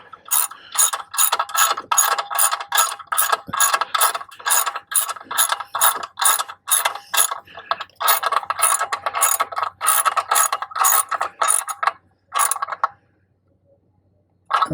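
A hand ratchet clicks as it tightens screws on caliper covers fitted to a Tesla Model 3/Y, a quick run of crisp close clicks in rhythmic bursts, one short pause midway, then the clicking stops near the end.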